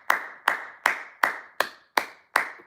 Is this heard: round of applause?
yes